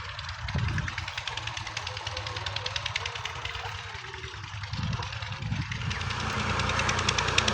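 Tractor engine drawing nearer along a village track in rural Punjab, a steady low rumble with knocking pulses that grows louder toward the end, heard alone without talk.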